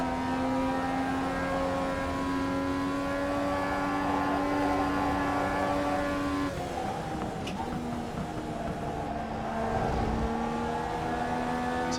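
Race car engine holding a steady high drone down a straight on a track, the pitch stepping down briefly partway through as a gear shifts before climbing again, loud and close with no talk.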